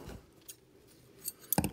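Scissors cut through tarlatan fabric, giving a few soft snips: a faint one near the start, another midway, and a louder close cluster at the end.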